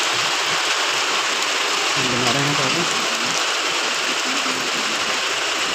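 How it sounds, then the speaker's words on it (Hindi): Heavy rain pours steadily onto a market street outside a shop, a loud unbroken hiss that fills the whole scene, while someone speaks briefly under it. "यहाँ पर अभी बारिश शुरू हो गई है, बारिश काफ़ी तेज़ हो रही है"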